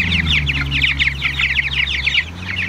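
Homestead chickens cluck in a rapid, busy chorus after a flood, with a steady low hum running underneath throughout.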